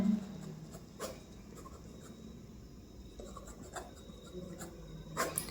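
A pen writes by hand on paper while working out business income figures, producing quiet, intermittent scratchy strokes with a few sharper taps, all faint and close.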